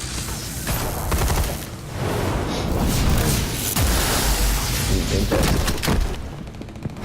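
Gunfire in a Batman video game: a loud, dense fusillade of shots and booms that rolls on almost continuously, dipping briefly between bursts.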